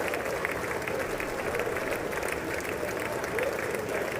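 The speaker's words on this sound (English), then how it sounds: "the applause is so long" Long, sustained applause from the chamber during Trump's address to Congress, a steady distant roar of clapping and crowd noise with a faint voice talking over it.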